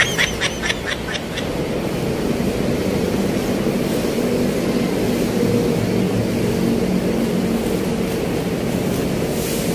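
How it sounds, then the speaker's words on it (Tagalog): A small camera drone controlled by cellphone whirs with a steady propeller drone outdoors, a constant buzzing hum at moderate loudness that holds throughout after a few brief clicks at the start. "paliliparin natin ang ating drone gamit yung cellphone din na connected dito"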